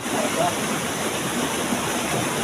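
Steady broadband roar of a waterfall on the Nageshwari trek, constant and fairly close with no breaks, faint voices barely surfacing beneath the rushing water.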